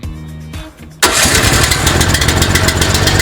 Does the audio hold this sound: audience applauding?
no